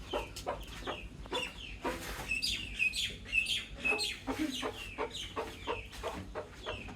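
Several chickens cluck and chirp in a busy, overlapping chorus, fairly close and steady throughout, with a few higher bird peeps mixed in.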